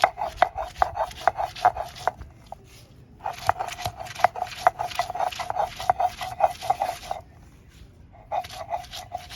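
Spices being ground by hand on a stone grinding slab (pata), a steady rhythmic scraping and knocking in repeated bursts with short pauses, close and moderately loud.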